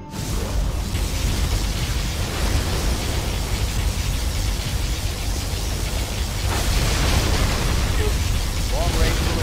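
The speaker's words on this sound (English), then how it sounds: "Warning, particle cannon activated." A particle cannon blast in the Command and Conquer Generals video game roars as a loud, sustained wash of explosive noise that barely changes across the whole stretch.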